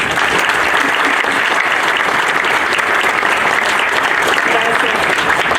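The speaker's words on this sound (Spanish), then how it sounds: "Démosle un aplauso de saludo." A large audience claps steadily through a formal ceremony honoring Alfonso Reyes and presenting the Cartilla Moral, with dense, loud, continuous applause and no pauses from start to finish.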